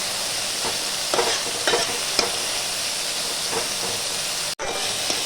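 Neem leaves and eggplant frying together in a pan for nim begun, a loud, steady close hiss and sizzle with a few stirring scrapes and a short break near the end, no voices.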